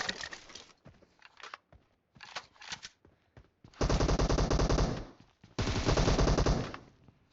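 Rapid automatic gunfire from a video game shooter, fired in two sustained loud bursts after scattered shorter shots, with no speech.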